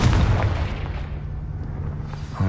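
A Confringo blasting curse goes off in Hogwarts Legacy as a loud, broad explosive boom that rumbles and slowly decays over a couple of seconds, with a fresh burst at the end.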